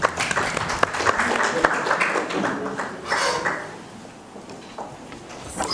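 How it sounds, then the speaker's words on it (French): An audience at a press conference at the Institut français in Kinshasa claps for a sales representative, a clattering burst of applause mixed with voices that fades out midway, then picks up briefly at the end. "qu'on peut applaudir"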